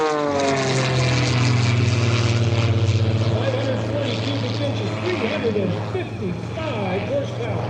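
An AEIO-540 aerobatic propeller airplane engine drones loudly and steadily throughout at an airshow, its pitch wavering slightly as the aircraft passes close by.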